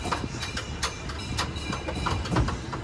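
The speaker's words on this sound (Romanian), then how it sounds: "Ah, se aude trenulețul nostru." A small tourist road train at the seaside resort of Playa de las Americas rolls past with a steady rattling, clicking rumble, heard from on board or close by, with no talk.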